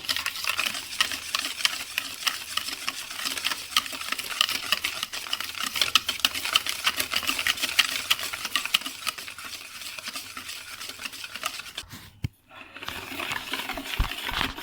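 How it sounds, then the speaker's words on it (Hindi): Eggs and sugar being beaten with a beater, a continuous rapid whirring and clicking against the bowl, fairly loud and steady, briefly cutting out near the end before resuming. "चीनी को हमने अच्छे से बीट कर लेना है। बीटर की मदद से"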